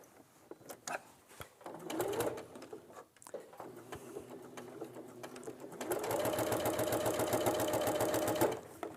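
A domestic sewing machine stitches a straight seam across fabric, starting with a few short bursts and light handling noises, then running in a loud, steady continuous whir for the last few seconds before stopping.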